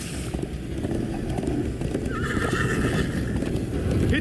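Steady thudding hoofbeats of a galloping horse in the video game Minecraft: Story Mode under a constant low rumble, with a brief high whinny partway through.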